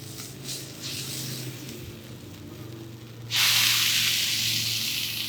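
Quiet crackling grows into a loud, sudden burst of sizzling hiss as bacon hits a hot Camp Chef griddle, then keeps sizzling steadily.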